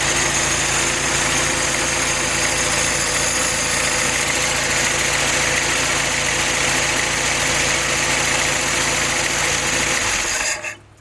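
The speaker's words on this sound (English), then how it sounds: "just sitting there idling." A Willys L-head four-cylinder engine idles steadily and loudly up close, a constant mechanical rumble that continues unchanged until it cuts off at the end.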